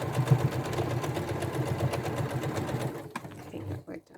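A sewing machine runs steadily while stitching a quilt block, a close, continuous mechanical whir with a fast rhythmic stitching pulse, stopping near the end.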